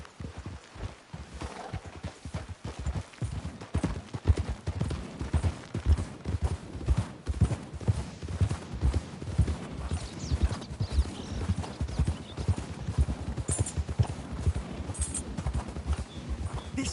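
Several horses clip-clop at a steady trot in a Sherlock Holmes game, hoofbeats close and prominent, with scattered snorts and background game ambience and no talk.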